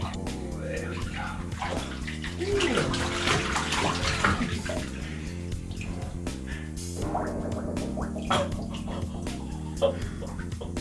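A tap fills a bathtub for a child's bath time with a steady rushing and splashing of water. The pouring continues throughout, and voices can be heard over it at moments.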